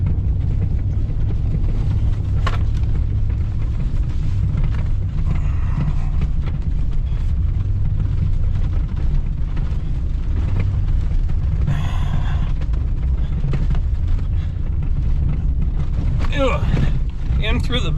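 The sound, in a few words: 4-wheel-drive vehicle driving through deep snow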